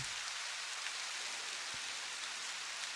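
Steady rain falling, an even, dense hiss of drops on surfaces that holds at a constant level throughout, with no voices or other sounds.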